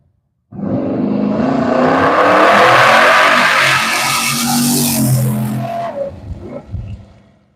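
A Chevelle drag car launches hard at U.S. 131 Motorsports Park, its engine roaring loud and close as it climbs through the run. The sound then fades and breaks up as the car lets off.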